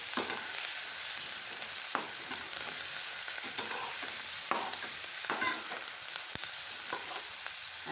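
Capsicum dish with coriander stirred in a pan, the spoon scraping and clacking at irregular intervals over a steady frying sizzle, with no voices.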